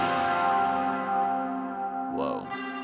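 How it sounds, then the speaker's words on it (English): Guitar played through a Wash reverb pedal with the wet mix turned up, a sustained chord ringing into a long, lush reverb tail that slowly decays, with a brief swelling note near the end. "this pedal, the wash, it's a reverb pedal"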